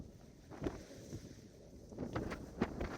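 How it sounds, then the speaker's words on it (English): Blustery westerly wind gusting across a rocky Anglesey shoreline during rock fishing, heard as a steady rumbling buffet with louder gusts swelling and fading every second or so. "There's a bit of blustery westerly wind which is coming straight across us here"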